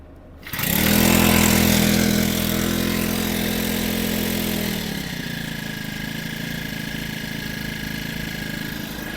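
A Grunhelm GR-31TS four-stroke brush cutter engine starts and warms up, loud and close, revving high for a few seconds before settling into a steady idle.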